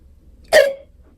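A voice imitates a single sharp hiccup while reading a children's story about a kitty with the hiccups: one abrupt, close burst that fades quickly, alone with no talk around it.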